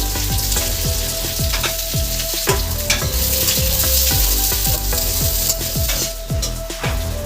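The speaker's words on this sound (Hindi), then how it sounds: "मसाला फ्राई हो चुका है, अब आलू फ्राई होगा" Spices, bay leaf and onion sizzle loudly in a hot pan in a home kitchen, a steady close frying hiss broken by repeated clinks and scrapes of a stirring spoon against the pan.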